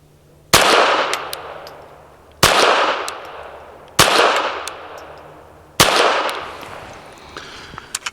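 Four sharp gunshots from a Hammerli Forge H1 .22 pistol crack out at irregular intervals, each with a ringing tail, followed by a few faint metallic clicks near the end.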